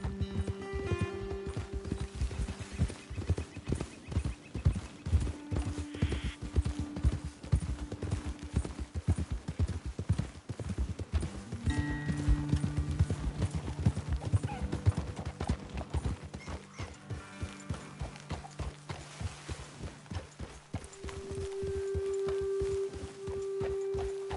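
Horses' hooves clip-clopping steadily in Red Dead Redemption 2, a continuous walking rhythm close by with an occasional whinny, over ambient game music and no talk.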